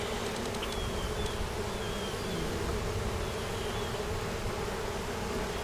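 Dense, steady buzzing of a honeybee swarm inside a barn, mostly worker and guard bees, a loud continuous drone close by with a few individual bees whining past, and no voices.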